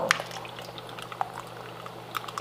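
Thai sour curry (kaeng som) broth with tamarind and lime simmers in a pot, giving a soft, close bubbling with scattered pops and drips over a low steady hum.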